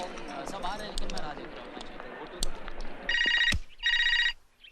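A telephone bell rings in two short bursts near the end, loud and close, following a stretch of talk in a home before a morning meeting.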